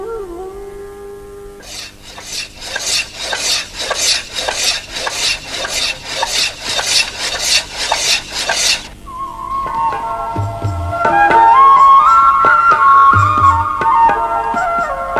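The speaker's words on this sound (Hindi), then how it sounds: "सीधी हुई थाली का अगला पड़ाव होता है वह घर जहां उसकी सतह की छिलाई होती है, इसे आकर्षक और चमकदार बनाने के लिए।" Hand shaving and polishing the surface of a straightened metal plate in a thali-making workshop in Unchehara, with a fast run of rhythmic scraping strokes followed by a steady whirring, grinding tone.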